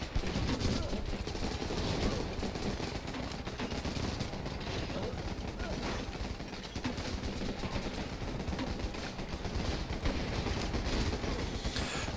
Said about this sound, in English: God, these miniguns are amazing.